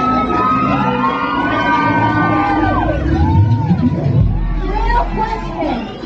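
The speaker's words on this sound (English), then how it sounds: "Party crowds!" Loud party crowd on a booty cruise, dense babble of many voices with shouts and whoops throughout, a constant close hubbub that swells slightly near the end.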